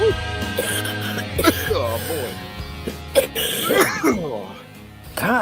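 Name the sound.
coughing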